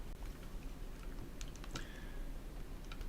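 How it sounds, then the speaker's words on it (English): Numbers being typed on a computer keyboard during an enthalpy-of-neutralization calculation: a short run of faint, scattered key taps in a quiet room, with no talking. "Let's type that in."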